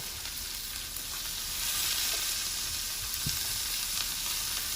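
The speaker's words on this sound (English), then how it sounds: "You want to hear that sizzle." Steady, close sizzling of food frying in vegetable oil in a hot skillet, a bright crackling hiss with a few louder spits and pops.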